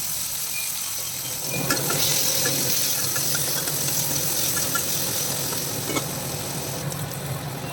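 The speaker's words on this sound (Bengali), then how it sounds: "একটু জিরা, শুকনো লঙ্কা এগুলো ফোড়ন দিয়ে পেঁয়াজটাকে ভালো করে ভেজে নিয়ে" Onions frying in hot oil tempered with cumin and dried chilli for a fish and potato curry, a continuous close sizzle with occasional stirring clinks, no talking.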